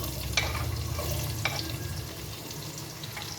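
Onion goes into hot oil with crackling tempering spices for a Bengali-style corn and chicken pulao, giving a steady close frying sizzle with a few scraping stirs and no talking.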